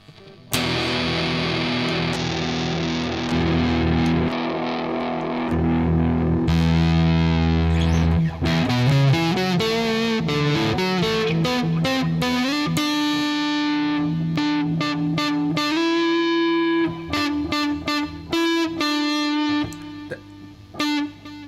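Distorted electric guitar played through a LEKATO PA1 pocket amp with reverb, a loud continuous run of chords and picked notes with sustained ringing tones, playing alone without pauses.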